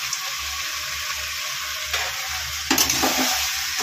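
Potatoes frying in oil-rich spice masala with a steady close sizzle, broken by a few scraping stirs of a spoon through the pan near the end.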